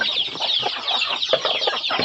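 Chickens cluck in a steady, overlapping chorus at evening feeding time on a farm, while chopped Napier grass is mixed with feed; the bird calls are close and continuous, with no voices.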